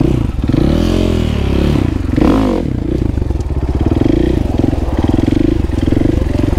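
A motorcycle engine revs up hard for a wheelie, a loud close rumble that surges in the middle and then settles into a rapid, throbbing idle, with a faint voice underneath.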